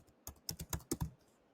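A quick burst of about six crisp keystrokes on a computer keyboard, close and fairly quiet, spread over roughly a second with no talking.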